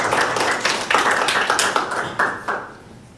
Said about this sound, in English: Give these ladies one more round of applause.